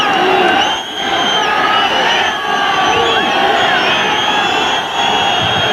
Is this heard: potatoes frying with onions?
no